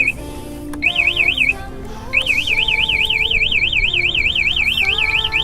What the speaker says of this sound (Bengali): তাহলে বাইকটি হর্ন বেজে উঠবে, সাথে সাথে রিমোটটিও বেজে উঠবে।